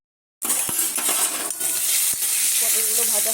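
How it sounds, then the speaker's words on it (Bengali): Pointed gourd (potol) sizzles loudly in hot oil in a pan, a steady crackling fry broken by a few sharp clinks and stirring knocks of a utensil against the pan, close and continuous after a silent start. "পটলগুলো ভাজা হয়ে গেছে"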